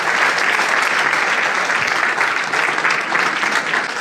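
Church congregation applauding together in a steady, sustained burst of clapping that fills the room, close and loud from start to finish with no talking over it.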